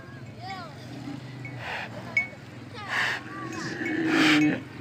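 Cattle or water buffalo low with drawn-out moos over a few seconds, fairly close and outdoors, while people talk nearby.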